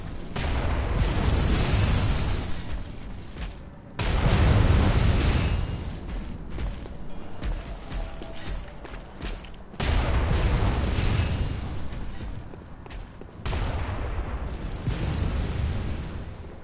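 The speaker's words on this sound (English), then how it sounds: "These guys have big cannons." Heavy cannon blasts in the video game Bloodborne, loud booming explosions that arrive in several separate bursts, each followed by a rumbling decay, with no talking over them.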